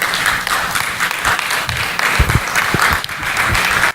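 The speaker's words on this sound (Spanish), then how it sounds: "Póngase sobre sus pies y dele una fuerte ofrenda de palmas a Él" Congregation at a worship service applauding loudly and steadily, dense clapping filling the whole stretch with a few louder bursts.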